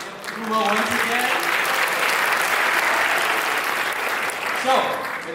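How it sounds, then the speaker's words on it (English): A live event audience at a dance competition livestream breaks into steady, loud applause for the sponsors, a dense wash of clapping lasting several seconds with brief voices at the start and end. "Round of applause to our sponsors."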